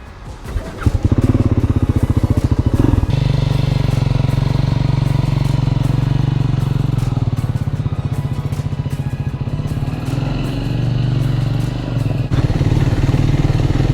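A Triumph 400 Scrambler motorcycle is ridden, its engine holding a loud, steady drone close by for the whole stretch, with slight shifts in pitch and no talking.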